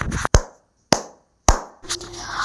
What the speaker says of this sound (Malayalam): നല്ല ഉച്ചത്തിലായിട്ടുള്ള കയ്യടി ശബ്ദം